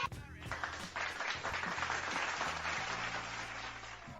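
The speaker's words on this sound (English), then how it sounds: "I think we should almost double up on those claps" An audience claps and cheers steadily for a record-setting Division I women's basketball scorer, a dense, continuous wash of applause lasting several seconds.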